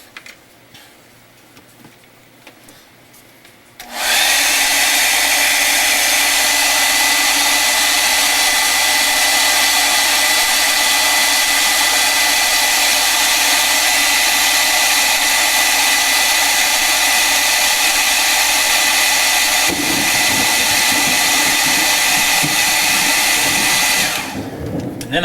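A hair dryer blasts steadily at close range to dry acrylic paint on a miniature viper, switching on abruptly, running loud and unbroken for about twenty seconds, then cutting off.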